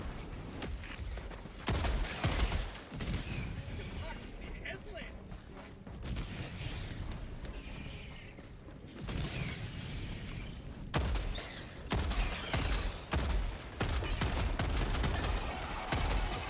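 Bursts of rapid gunfire in the video game Helldivers 2, repeated volleys and explosive booms cutting in and out over several seconds, close and loud, with a voice talking between them.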